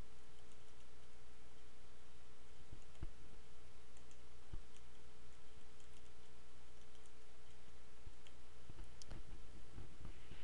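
Sparse, faint clicks of a computer mouse against a steady electrical hum, a few scattered taps spaced seconds apart with no one speaking.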